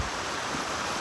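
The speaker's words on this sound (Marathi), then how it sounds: "पाण्याचा आवाज लय हाय" Flowing water rushes at a hidden spot beside a road, giving a continuous, even hiss of fairly faint but dense noise with no pauses or voices.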